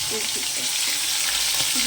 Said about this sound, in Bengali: এখানে মাছ ভাজছি দেখো বন্ধুরা